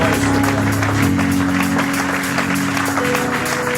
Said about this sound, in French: Clap again, clap again, clap again